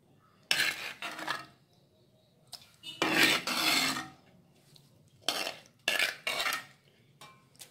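A metal ladle scraping and scooping tomato chutney out of a clay pot, in a series of gritty scrapes and clinks separated by short pauses, close by with no talk.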